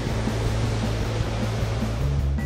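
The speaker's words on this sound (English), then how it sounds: "your very own wave sound machine that's gonna help you sleep at night" Steady, close wash of ocean surf from a beachfront bedroom at Stinson Beach, a continuous broadband roar with no voices over it.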